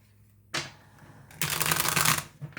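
Tarot cards are shuffled in a brief burst: a sharp riffle, a short pause, then a louder, longer flurry of card rustling, close and alone with no talk.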